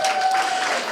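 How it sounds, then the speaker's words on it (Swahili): At an Akamba cultural event and diaspora association meeting, an indoor audience gives a short, dense burst of clapping that stays steady through the moment. "Mpigieni makofi."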